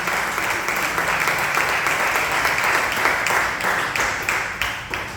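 Dense, sustained applause from a church congregation, loud and continuous with many overlapping claps filling the room, faint voices mixed in beneath.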